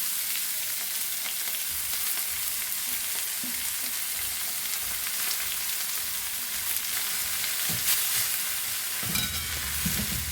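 Onion, green chilli, mustard seeds and chopped leaves sautéing in coconut oil, a continuous bright sizzle with occasional stirring knocks and a louder clatter of the spoon near the end.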